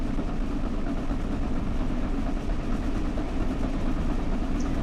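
The Flying Scotsman steam locomotive runs in Train Sim World 5, a steady, dense low rumble of wheels and engine with no speech.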